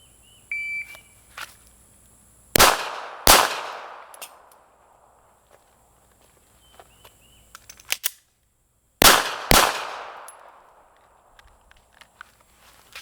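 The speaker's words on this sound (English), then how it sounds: "draw and fire 2, empty gun reload, fire 2 more in 10 seconds" Handgun qualification drill at a reduced-size target: a close pair of sharp pistol shots, a pause with faint handling clicks during an empty-gun magazine reload, then two more sharp shots, each ringing out briefly.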